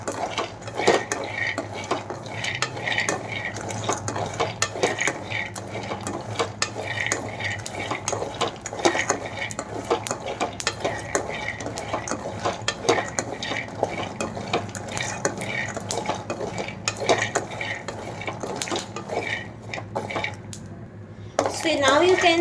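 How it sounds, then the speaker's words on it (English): Peanuts roasting in a pan as a utensil keeps stirring them, a continuous close scraping and rattling of nuts against metal with a soft sizzle underneath, steady throughout and fairly loud. "We need to roast all of them evenly. So we just need to keep moving."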